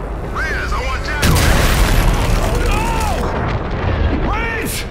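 Heavy booming blast from the Call of Duty: Infinite Warfare video game, a broad rumbling explosion that swells around a second in and rolls on loudly beneath tense radio voices and music.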